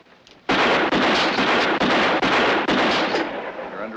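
A rapid volley of loud, close gunshots in a 1953 Western, a burst of sharp bangs starting after a brief quiet moment and rolling on continuously with brief gaps, ending in a fading echoing rumble.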